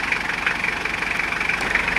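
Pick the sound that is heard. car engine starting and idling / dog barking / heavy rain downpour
car engine starting and idling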